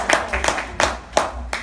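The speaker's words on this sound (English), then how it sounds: "Guys, y'all clapping like we've been in business for 10 years" Scattered audience clapping at a business campaign event in Chicago, coming as five loud, separate bursts of claps in a loose, uneven rhythm, with a room hum beneath and no talking.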